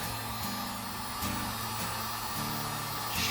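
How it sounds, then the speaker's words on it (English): A small handheld heat gun blows hot air onto heat shrink tubing over wires for a DIY portable solar power kit, giving a steady close whooshing hiss with a motor hum that shifts pitch as it is moved. "Get out your little blower."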